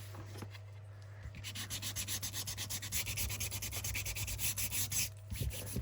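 Sanding a junk journal piece by hand, with close rhythmic back-and-forth rubbing strokes, steady and repetitive for several seconds after a brief handling sound.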